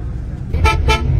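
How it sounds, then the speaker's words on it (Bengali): Two short horn honks from a Volvo bus in quick succession, loud and fairly close, over a steady low engine rumble. "আর গাড়ির হর্নটাও সেরকম ব্যাপক, মানে বাইরের আওয়াজ কিছু পাচ্ছি না, গাড়ির হর্নই মারাত্মক"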